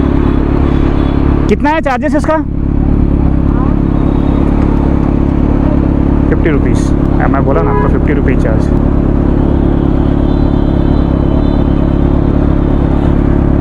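A Kawasaki Z900 superbike idles steadily in heavy rain, a continuous low engine hum running beneath the entire scene while people talk over it nearby.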